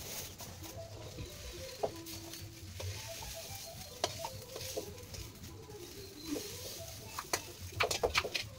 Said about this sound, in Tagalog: mag-iwa tayo na sibuyas at gigisayin natin yung atay